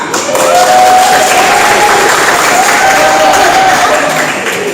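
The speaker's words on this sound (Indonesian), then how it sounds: "tepuk tangan" A group of students on a high school study tour in Medan clap loudly together, a close, full burst of applause mixed with murmuring voices that holds steady before trailing off at the end.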